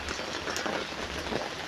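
Rain falls steadily in a dense hiss of drops on surfaces, constant and fairly loud across the brief stretch, with no voices.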